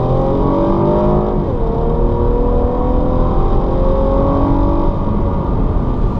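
A 2016 Cadillac CT6 with all-wheel drive accelerating hard, its engine note a steady loud roar with rising tones, heard from inside the cabin without talk.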